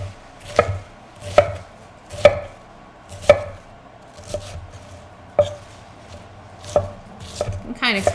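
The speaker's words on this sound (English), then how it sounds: "we're just gonna cut this into, I guess, bite-sized pieces" A knife chops chicken into bite-sized pieces on a board for a stir fry, about nine sharp, close knocks at an uneven, unhurried pace with short pauses between them.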